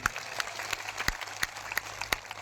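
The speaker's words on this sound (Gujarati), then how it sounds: "યુવાનો અને ભૂલકાઓ બધા માટે એકવાર જોરદાર તાળીઓ પાડી લઈએ આપણે" A crowd at a Gujarat Jodo public rally claps in scattered, steady applause, faint and distant with sharp individual claps standing out.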